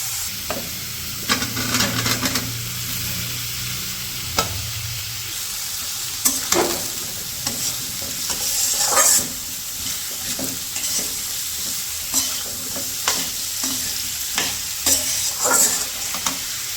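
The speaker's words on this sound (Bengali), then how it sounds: "এই যে এই পাশে হচ্ছে গুঁড়া মশলাগুলো দিয়ে মশলাটা কষিয়ে নিচ্ছি" Ground spices frying with onion and chilli in a pan, a steady sizzle broken by repeated scraping stirs of a spoon against the metal, with a low hum in the background and no talk.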